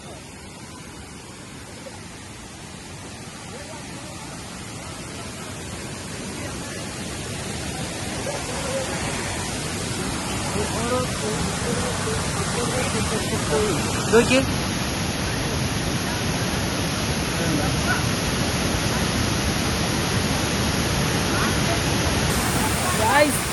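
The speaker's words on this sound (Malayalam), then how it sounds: "ഭയങ്കര മഴ." Heavy rain pours in a steady, dense roar that grows slightly louder over time, close and continuous, with a brief spoken word in the middle.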